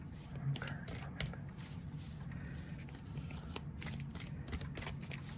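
Cards being shuffled repeatedly, a steady papery riffling and flicking close by, with a low background hum throughout.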